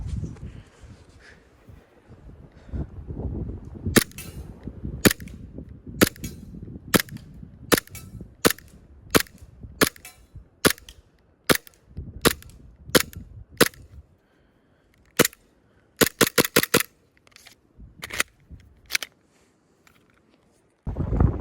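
An AW Custom VX7 Z80 green gas airsoft pistol fires in cold weather, sharp snapping shots at a steady pace, then a quick burst of rapid shots and a few more single cracks, with wind noise in between.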